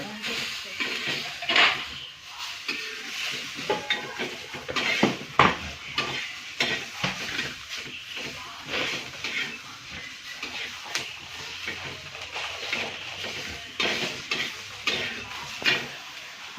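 Onion and tomato roasting in a pan for a home-cooked puran poli meal, with repeated stirring scrapes and clinks against the pan over a steady sizzle at close range.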